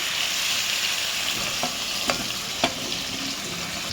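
Paneer pieces, softened beforehand in hot water, fry lightly in a pan with a steady sizzle, punctuated by a few soft clicks of stirring, with no voices.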